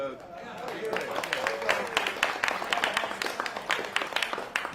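Audience applause at a 1982 Milwaukee Brewers reunion, steady rapid clapping from a crowd with a voice talking over it throughout.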